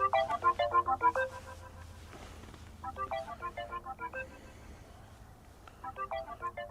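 A phone rings on an outgoing call, playing a melodic tone in three bursts of repeating notes with gaps between them. It is fairly clear, with no talking.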